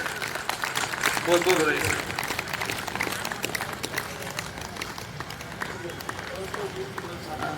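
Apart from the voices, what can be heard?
audience applause welcoming the speaker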